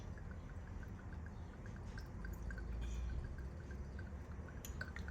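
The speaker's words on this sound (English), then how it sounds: "I'm just gonna add olive oil to my pan" Olive oil pours into a frying pan, with faint, soft dripping and trickling against a quiet background. No one speaks.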